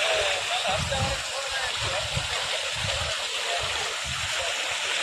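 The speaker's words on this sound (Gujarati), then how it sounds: "આમાં જાય હેરે બધું પાણી" Continuous rushing of water draining out of a farm field through a broken bank, a broad steady wash with low gurgling pulses underneath, and faint voices in the background.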